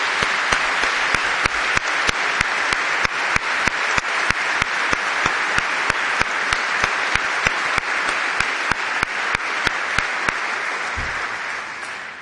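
A church audience gives a long, steady round of applause for the performers at a concert for vocations, with sharp individual claps standing out close by throughout.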